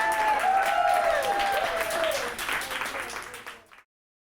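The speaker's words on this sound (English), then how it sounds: "And a huge round of applause." An audience at a panel discussion in Manchester breaks into loud applause that fades out after a few seconds.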